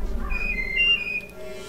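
Whistling in the video game Oddworld: Abe's Oddysee, a short run of clear whistled tones rising and falling over a low background hum.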